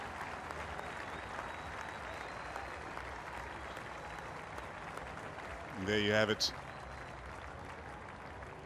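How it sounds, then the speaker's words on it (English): Players and fans applaud at a rugby sevens match, a steady, fairly quiet crowd clapping that runs throughout under a commentator's voice, with a brief louder vocal burst near the middle. "some applause from the players, from his teammates, and from the fans as well"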